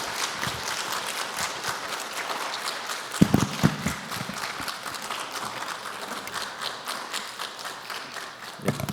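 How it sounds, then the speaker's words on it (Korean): A church congregation applauds to welcome a guest lecturer at a Friday evening worship service, a steady, moderately loud patter of many hands clapping throughout, with a few sharper claps standing out near the middle. "우리 박수로 환영합니다."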